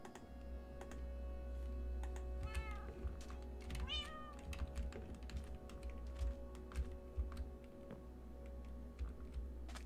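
A Minecraft cat gives two short, rising meows close by, set among frequent keyboard clicks and taps over a low steady hum.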